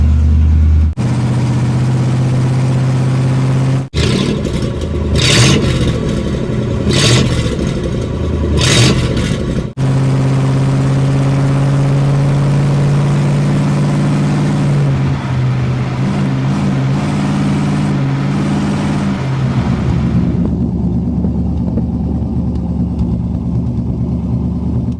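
A 1960 Chevrolet Impala that sat for 32 years idles close up, the generator and power steering pump turning: a loud, steady engine drone that briefly dips and shifts in tone, then settles lower, with no speech.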